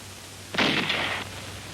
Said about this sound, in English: the highly mobile 75mm pack howitzers delivered continuous fire to the north